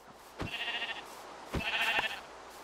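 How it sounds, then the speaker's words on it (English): Two wavering bleats from a big sheep in Minecraft, each preceded by a sharp tap, heard up close and alone without speech. "Found a big sheep."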